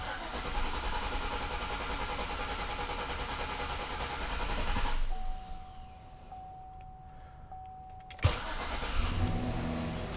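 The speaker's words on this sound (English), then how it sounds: "So you can crank it for 5 or 10 seconds without it starting up and really put a load on everything." A car engine cranks steadily in clear flood mode without catching, a continuous droning whir from the starter for about five seconds, then quiets to a low hum with a faint tone before a sharp click and the cranking drone returns.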